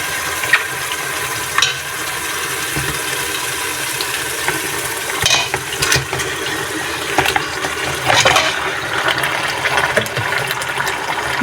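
Chicken pieces going into a pan of well-fried spiced masala for a desi chicken curry, giving a steady moderate sizzle with scattered bursts of crackle and stirring scrapes throughout.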